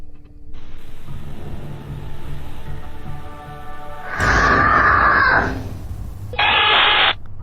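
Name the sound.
loud scream on nanny cam footage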